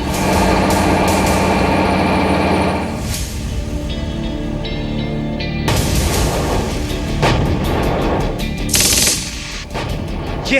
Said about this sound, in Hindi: यह है भारतीय सेना का सबसे बड़ा खिलाड़ी T-90 भीष्म टैंक।